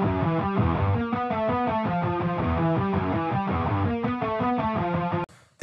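A virtual Les Paul electric guitar plays a distorted chugging rhythmic riff, steady and up front, cutting off abruptly near the end.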